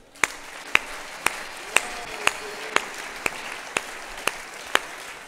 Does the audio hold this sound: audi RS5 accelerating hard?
no